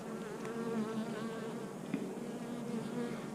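Close, continuous buzzing of many honey bees, a dense steady drone with occasional louder passes, no voices.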